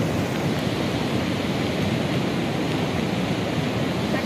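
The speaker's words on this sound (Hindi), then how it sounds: "बहुत खतरनाक तरह से बाढ़ आ रखी है यहाँ पे" The flooded Beas river in Kullu Manali rushes past after a cloudburst, a loud, unbroken roar of churning water with wind noise on the microphone and no voices.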